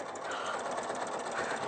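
An Elna 680EX sewing machine stitching steadily at a gentle pace, a continuous fairly faint mechanical whir with a fast even needle rhythm throughout.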